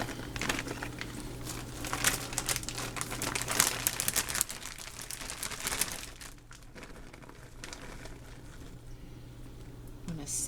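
Aluminium foil is crinkled and pressed over a lasagna for sun-oven cooking, with loud, close crackling bursts for several seconds that then ease into quieter rustles.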